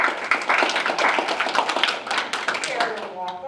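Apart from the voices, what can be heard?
applause for committee members standing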